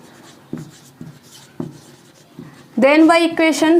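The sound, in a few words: writing equation on board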